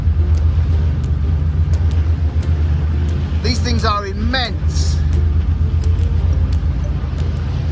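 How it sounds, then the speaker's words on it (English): A heavy, constant high-speed ferry engine rumble drones loud and close as a Sea-Jet overtakes a sailboat in the Cyclades, Greece, with someone speaking briefly over it. "the noise you can hear is the noise coming from the engine"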